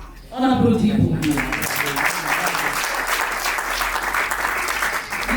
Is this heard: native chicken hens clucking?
no